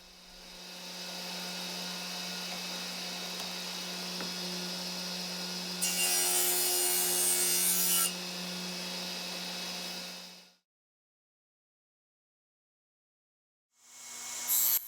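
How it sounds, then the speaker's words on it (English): Radial arm saw cutting corner spline slots in a frame riding on a Baltic birch plywood sled: a loud continuous motor whine with a harsher burst of blade cutting in the middle, then a sudden stop, silence, and a restart. "The radial arm saw is an ideal choice to cut corner spline slots"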